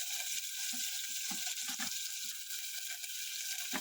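Onion frying in a pan as part of a vegetable filling for cheese croissants, a steady close sizzle with occasional soft stirring clicks throughout.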